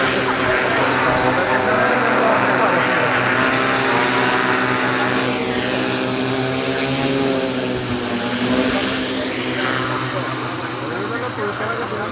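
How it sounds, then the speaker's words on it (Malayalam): An agricultural drone spreading fertilizer over Sankaramangalam paddy fields gives a steady, loud propeller whine and drone that holds throughout, with slight pitch sweeps as it manoeuvres. "ശങ്കരമംഗലം പാടശേഖരത്തിൽ ഡ്രോൺ ഉപയോഗിച്ച് വളപ്രയോഗം നടത്തി"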